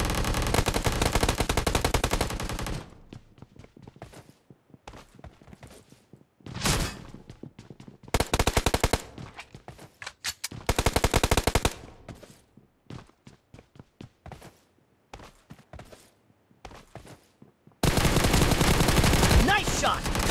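Automatic weapon fire in a BGMI team deathmatch, long loud sustained bursts at the start and end with shorter bursts between, and scattered fainter shots and game sounds in the gaps.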